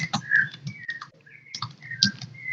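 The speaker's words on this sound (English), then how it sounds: "I love that bird." A bird chirps nearby during a class session, with short bright calls and whistled notes repeating through the clip. Soft background sounds from the room sit underneath.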